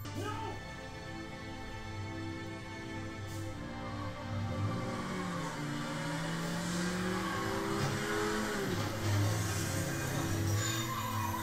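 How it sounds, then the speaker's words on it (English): A car approaching in a Doctor Who episode, its engine rising steadily from a low hum to a louder revving roar over several seconds, mixed with background music and dialogue. "That car was going to kill you."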